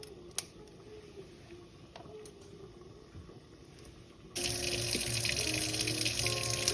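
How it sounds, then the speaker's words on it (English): A kitchen faucet is switched to its pot washer setting to rinse string beans, with quiet room tone and light clicks, then the water bursts on partway through into a loud, steady, close rush of spray into the sink. "I'm gonna rinse these off. So I'm gonna set my faucet on that, pot washer setting."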